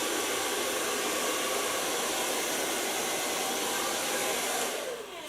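Hair dryer blow-drying a woman's fine, voluminous hair: a loud, steady close-up airflow roar held continuously, easing and tapering off right at the end.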